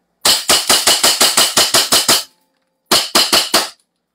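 A toy blaster fires in a rapid automatic burst of about ten sharp, evenly spaced snapping shots, then falls silent briefly before a second burst of four quick shots; close and loud, with no talking.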